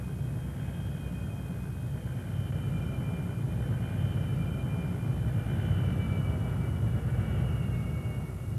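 A Messerschmitt Me 262 jet fighter starts to taxi, its jet engines giving a loud, steady roar and whine that holds without a break throughout.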